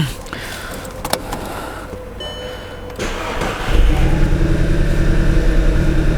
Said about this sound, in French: Allez, premier démarrage avec les bougies neuves.